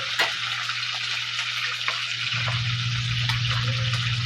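Onion and ginger sizzle steadily in hot oil in a pan, a dense, continuous hiss close up with a low hum beneath and a few soft clinks of stirring, no voices.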